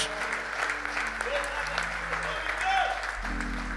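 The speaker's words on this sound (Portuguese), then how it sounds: "Quantos podem aplaudir a Jesus?" A church congregation applauds steadily for the full stretch, with voices mixed into the clapping and a low sustained tone entering near the end.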